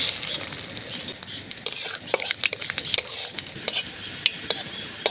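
Panch phoron, dried red chilli and bay leaf hitting hot oil in a wok, a brief crackling sizzle with sharp spattering pops and scraping stir clicks, close and busy, no voices.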